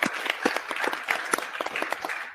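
Steady applause from a crowd, many hands clapping densely and continuously at a moderate distance.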